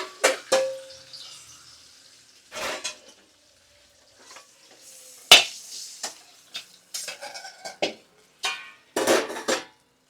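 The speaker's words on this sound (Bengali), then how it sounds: "এবার আমি একটা পাত্রে তুলে রাখবো।" Fried catla fish head lifted from hot oil into a vessel, giving scattered spatula scrapes, clinks of metal utensils and short sizzling bursts spread over the clip, with quiet gaps between them.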